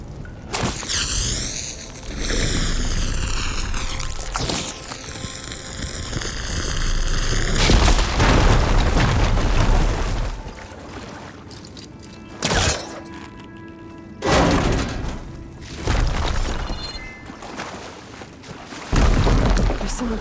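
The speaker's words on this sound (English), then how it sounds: "Should be able to blow up that fire gleam." A fire gleam blown up in Horizon Forbidden West, heavy booming blasts and rumbling bursts within game music and effects, loud and close, with no talk.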